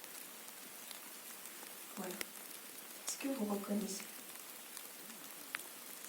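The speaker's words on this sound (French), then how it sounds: "C'est le bruit de la pluie." Rain falls in a soft, steady hiss that stays fairly faint throughout, while a voice speaks briefly over it.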